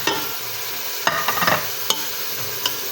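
Keema being fried with ginger garlic paste in a pot, stirred with a steady sizzle and a few sharp scrapes of the spoon against the metal, close and moderately loud with no talking.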